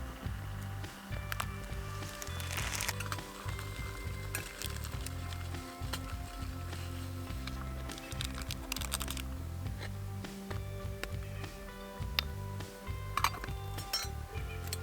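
A metal pot and mugs clink and clatter repeatedly on a lit camp stove at a campsite, over a steady low hum, with scattered sharp taps close by and no talking.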